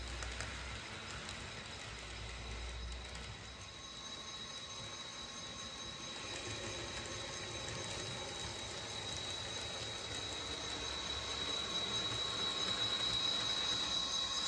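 A Santa Fe passenger train, the Angelo, approaching and easing to a stop at Brownwood Station: a steady rumble of rolling cars with a thin, sustained wheel squeal, heard alone and at a constant moderate level.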